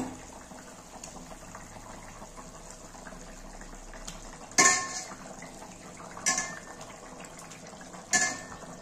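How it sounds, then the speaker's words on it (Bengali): Pieces of katla fish dropped into boiling curry in a pan, with a constant low bubbling simmer and three sharp clinks of a utensil against the pan, close by and with no talking. "দেখো ঝোলটা ফুটে গেছে, এবার আমি মাছগুলো সব দিয়ে দেব।"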